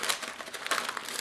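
Plastic piping bag filled with isomalt sugar being pinched closed, giving a soft, close crinkling rustle of thin plastic that lasts about a second.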